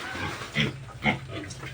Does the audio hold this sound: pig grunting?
yes